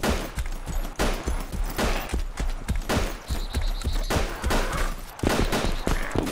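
Gunfire in the video game Arma 2 DayZ Overpoch during a firefight against AI enemies, a loud rapid series of sharp shots in an uneven rhythm, with no talking.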